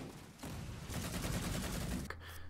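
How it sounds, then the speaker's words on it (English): Rapid automatic gunfire from an assault rifle in the video game Halo 4 crackles in a sustained burst, then cuts off abruptly, followed by a faint lingering tone. "We have the assault rifle coming back."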